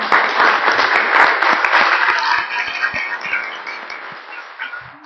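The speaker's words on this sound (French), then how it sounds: "Je note un applaudissement presque unanime." Nearly unanimous applause from a French municipal council meeting, steady close clapping that fills the room and slowly tapers off.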